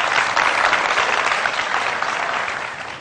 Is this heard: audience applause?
yes